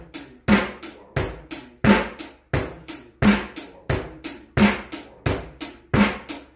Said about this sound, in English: And all the time we're keeping that steady hi-hat going.